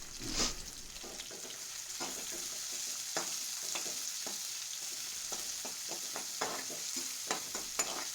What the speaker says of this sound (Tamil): இந்த கட் பண்ணி வச்ச வெங்காயத்தை இதில் ஆட் பண்ணிக்கலாம். வெங்காயத்தை ஆட் பண்ணிவிட்டு நல்லா வதக்கிக்கலாங்க.